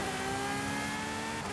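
A race car accelerating hard in Forza Horizon 5 during a Horizon Open race, a loud, steady engine drone with rising tones, heard up close throughout.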